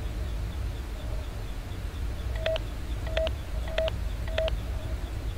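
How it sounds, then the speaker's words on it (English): Four short keypad tones from the Five Nights at Freddy's: Sister Location name-entry keypad, evenly spaced over steady background hum with no talking. "Please enter your name as seen above the keypad."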